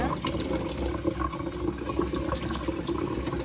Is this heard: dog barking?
no